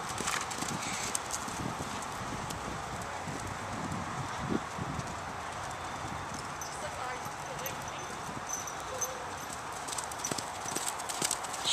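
A miniature horse's hooves clip-clop on the ground while it is lunged outdoors, a light, irregular series of soft thuds spread across the clip, with a voice talking over them.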